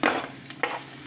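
Tomatoes tipped into a pan of browned onions and green chilies frying for kurma, giving a steady close sizzle with brief stirring scrapes and clatter at intervals.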